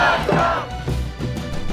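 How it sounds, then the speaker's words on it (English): A festival crowd at Vinotok in Crested Butte, Colorado chants a guilty verdict at the Grump in loud, rough unison. Voices swell and bellow together, close and continuous. "The jury, or those in the crowd, found him to be exceedingly guilty of his crimes and chanted their verdict as one."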